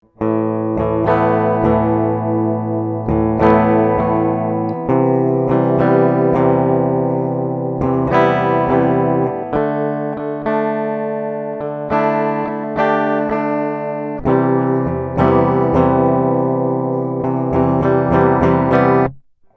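An electric guitar playing post-rock rings out through heavy effects, strummed chords sustained with shimmering, distorted tone, loud and close, changing every few seconds.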